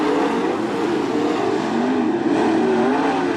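Late model race cars run a heat race at Attica Raceway Park, their engines blending into a loud, continuous roar with a wavering, sustained drone as they circle the track.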